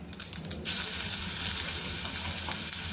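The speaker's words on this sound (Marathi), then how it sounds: "तेल गरम झालं थोडीशी मोहरी आणि जे आपण वाटण केलं आहे ते घ्यायचं आहे" Mustard seeds and a ground spice paste hit hot oil for a Maharashtrian potato bhaji, giving a loud, steady sizzle and hiss that surges after a brief softer start and holds to the end, with no talking.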